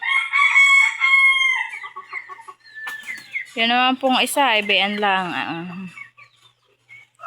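Chickens, including a large old hen, cluck and call up close, loud and throaty, while a person speaks over the first part and again near the end.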